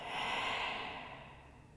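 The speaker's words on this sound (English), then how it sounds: "Deep breath out through your mouth." One long, soft exhale through the mouth during a yoga session, a breathy rush that fades gradually, close and quiet with no talking over it.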